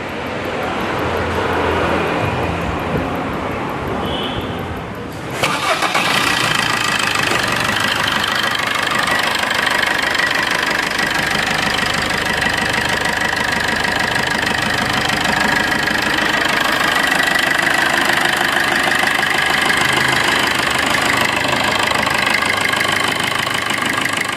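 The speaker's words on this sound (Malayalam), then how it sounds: "എല്ലാം പൈപ്പും എല്ലാം എല്ലാം കണക്ട് ചെയ്തിട്ട് വണ്ടി ഒന്ന് സ്റ്റാർട്ട് ചെയ്ത് നോക്കട്ടെ" A Maruti Suzuki Swift engine, just back together after turbocharger repair for an oil leak, cranks and catches after about five seconds, then settles into a steady, loud, close idle with a slight knocking texture.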